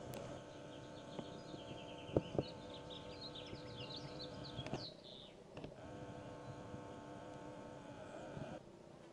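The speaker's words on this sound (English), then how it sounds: "These are the bees." Honey bees buzz faintly around their hives in a wood-chip-mulched vegetable garden, a soft continuous hum mixed with scattered bird chirps and a few light clicks.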